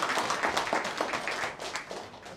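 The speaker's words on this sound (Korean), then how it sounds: "큰 박수 부탁드립니다." Audience applause at a literary awards ceremony for the judges of a monthly literary magazine, a steady wash of clapping at moderate level for a couple of seconds, with faint voices mixed in.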